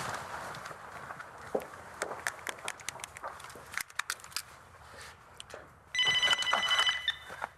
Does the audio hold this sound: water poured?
no